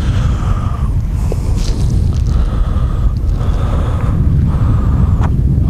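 Strong wind buffets the microphone during net fishing for carp with a casting net, a loud continuous roar with gusty swells throughout.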